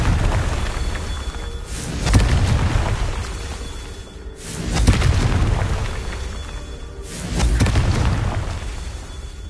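Confringo blasting spell explosions in the Hogwarts Legacy video game: three loud, booming blasts a few seconds apart, each with a rumbling tail over dense game effects.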